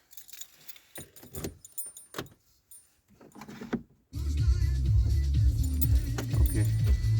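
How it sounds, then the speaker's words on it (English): Car keys jangle in a few short metallic bursts over the first four seconds, close and fairly quiet, then a loud steady low rumble takes over. "Here's my keys."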